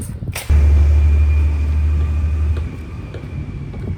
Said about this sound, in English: Now officially following behind the garbage truck.